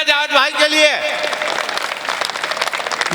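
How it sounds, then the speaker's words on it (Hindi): Audience applause for Javed at a Hindi poetry gathering breaks out after a voice with sustained tones, spreading into a dense, steady patter of clapping that fills the rest of the moment. "एक बार जोरदार तालियां जावेद भाई के लिए"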